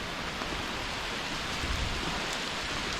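Steady rain falls on a forested backpacking trail, a dense, even hiss with no breaks, close and moderately loud, with no voices over it.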